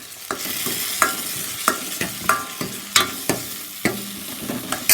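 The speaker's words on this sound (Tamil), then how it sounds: "உப்பு போட்டால் தக்காளி கொஞ்சம் சீக்கிரமாக வதங்கும்." Tomatoes with salt sautéing in a pan for tamarind rasam, with a steady loud sizzle and a run of sharp spoon scrapes and taps against the pan, close by.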